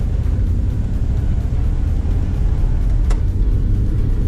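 A 1956 Pontiac Chieftain pulls away from a complete standstill, its engine giving a steady, loud low rumble heard from inside the car, with a brief sharp tick partway through.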